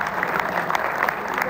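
Dense applause from a mushaira audience welcoming a guest poet from Delhi, a loud continuous patter of many hands filling the hall with no voices over it.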